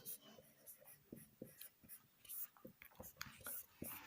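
Pen scratching on paper while a geometry proof about triangles is written out by hand, with quick irregular strokes and taps close by, plus soft breathy mouth noises.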